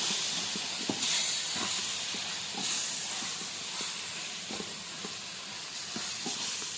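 Masala and vegetables frying in a pan for a Tamil veg chicken kuzhambu, a steady close hissing sizzle with soft periodic taps of stirring.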